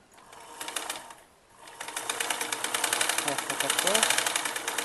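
A sewing machine stitches a baby elastic frock with a fast, steady mechanical chatter close by. It pauses briefly, then runs again and builds louder, while a person speaks over it.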